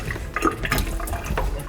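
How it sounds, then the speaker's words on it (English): Soaking water being strained off raw almonds in a kitchen, a continuous close splashing pour of liquid running steadily for a moment. "Just strain the water out."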